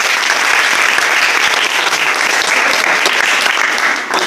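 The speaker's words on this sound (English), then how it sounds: "Give me a big clap." Students in a school hall clapping together for a classmate, a loud, even spread of many hands that holds for about four seconds before easing slightly.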